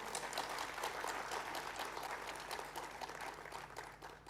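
Audience applause rings out through a hall at an Ambedkar Jayanti ceremony at IGNOU, steady dense clapping held at an even level for the whole stretch, without speech over it.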